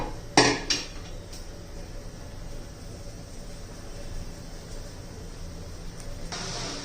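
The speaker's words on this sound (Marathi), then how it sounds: "आता त्या कढई गरम करण्यासाठी ठेवते." A metal kadhai is set down on a stove to heat, giving two sharp clanks near the start, followed by a low background hiss and a soft rustle near the end.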